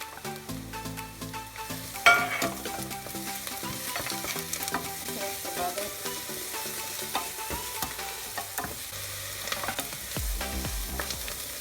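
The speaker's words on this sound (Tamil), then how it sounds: "அதையும் சேர்த்து வதக்கி கொள்கிறேன்." Crushed garlic and onions sauté in a pan for a Jaffna-style fish curry, a soft continuous sizzle broken by stirring scrapes and clinks, heard close with no talking.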